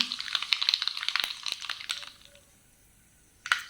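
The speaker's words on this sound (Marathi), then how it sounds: "ही पहा कशी मस्त तडतडते ती." Mustard seeds crackle and pop in hot oil, a dense flurry of small sharp pops that thins out into scattered crackles and ends with one louder pop.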